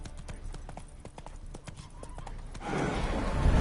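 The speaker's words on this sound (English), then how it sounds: "Spooking my horse." Roach, the horse in The Witcher 3, clip-clops with steady hooves and then gives a loud, rising neigh that swells into a close, noisy snort and whinny at the end.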